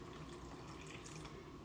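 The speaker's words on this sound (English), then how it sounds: "Now add you just a little bit of water" Cold water poured into self-rising flour in a mixing bowl, a faint, steady trickling splash that runs evenly throughout with no talking.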